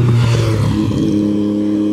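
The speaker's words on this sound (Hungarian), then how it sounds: "Motoros." A motorcycle passes close on a road, its engine loud and droning with a rising then steady tone as it goes by, heard from a bicycle with wind noise.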